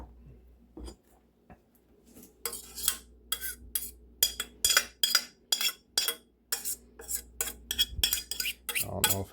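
Milk curds being stirred for cottage cheese made from ultra-pasteurized 1% milk, a utensil scraping and clinking against the pot in a steady series of about fifteen short strokes, close and moderately loud.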